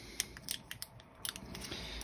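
Scissors snip through the outer plastic wrap of new 3S lithium battery packs, a quiet series of short crisp cuts and crunches spaced irregularly, close by with no talk.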